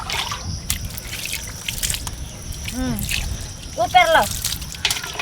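Water is splashed and poured over dirty feet, with drips and trickles and a brief gurgle, close and moderately loud, under excited talking.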